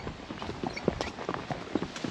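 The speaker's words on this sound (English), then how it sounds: "The horse really knows how to go." Horse hooves clip-clop at a steady walking rhythm on a steep rural trail in Cuba, close and fairly loud, with scattered soft thuds and no talking.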